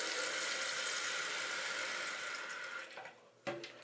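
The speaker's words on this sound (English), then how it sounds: "So what I'm gonna do is put water" Water from a tap pours steadily into a silicone brush-cleaning pad, a loud continuous splashing rush that cuts off near the end, followed by a few small drips and handling knocks.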